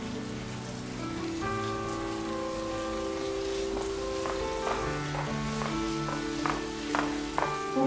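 Steady rain pours down, a dense constant hiss of drops falling on surfaces, heard alone with a few sharper taps and drips near the end.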